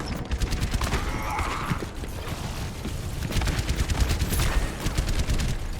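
Bastion's turret gunfire in an Overwatch JV esports match pours out as rapid, continuous bursts of automatic shots, dense and loud, with mechanical clatter mixed in throughout.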